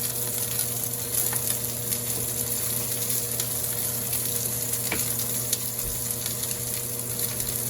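Seasoned pork chops with garlic and rosemary sear in a smoking-hot pan, giving a steady, close hissing sizzle with occasional small pops and a light clink, no speech.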